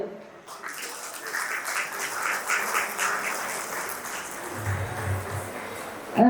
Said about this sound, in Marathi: त्यांनी आपल्या वक्त्यांच्या प्रोत्साहनासाठी टाळ्या चालूच राहू द्या